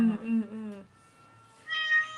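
A cat at a rescue shelter for strays and cats saved from illegal farms meows close by, a drawn-out tonal cry followed after a short pause by a higher, brighter meow.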